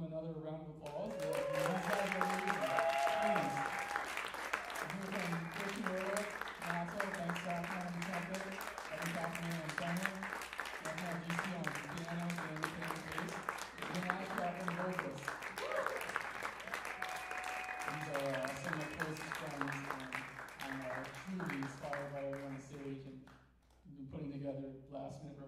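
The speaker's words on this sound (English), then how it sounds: "Give them another round of applause." A jazz recital audience applauds the band in a long, steady wash of clapping, with sustained instrument or voice tones running underneath throughout and fading near the end.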